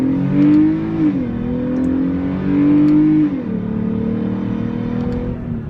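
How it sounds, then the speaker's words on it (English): A 2014 Dodge Durango with a V6 at full throttle, engine note rising through gears with a dip at each shift, loud and close from inside the cabin with no talk. "I'm turning onto a private highway, and I'm going to floor it."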